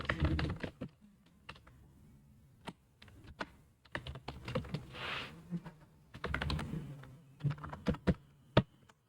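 Close, crisp keystrokes on a computer keyboard while C++ code is written, irregular clusters of clicks and taps with brief pauses, alone without talk.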